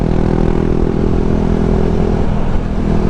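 KTM 390 Duke single-cylinder motorcycle held at wide open throttle on a slight downhill, a loud steady engine drone with heavy wind roar, constant and unbroken with no talking.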